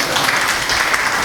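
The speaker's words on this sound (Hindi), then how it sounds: "अकोदिया वाले बहुत खुश होकर ताली बजा रहे हैं" An audience claps steadily at a Jain religious sermon gathering in Bhopal, a dense, even wash of applause lasting the whole moment.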